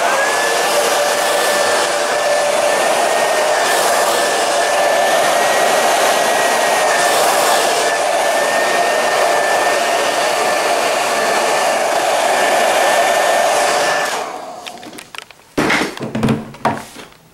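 A hair dryer blows with a loud, steady whooshing roar for a long stretch during hairdressing practice, then switches off, followed by a few clunks and handling noises.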